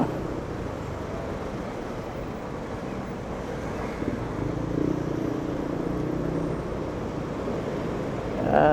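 A motorcycle weaves through heavy traffic with trailer trucks around, giving a steady rumbling engine drone with wind buffeting the microphone and a slight swell in the middle.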